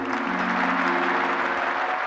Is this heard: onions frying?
no